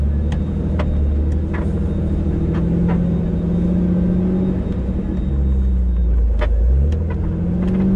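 An off-road vehicle grinds along a rocky trail in 4 low, its engine rumbling loud and close with shifting pitch as gears change, rattles and knocks scattered over the continuous drone.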